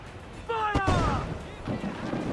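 A ship's cannon fires in Assassin's Creed IV: Black Flag, one sharp loud crack with a short rumbling tail, set against a brief shouted voice and quieter battle noise afterward.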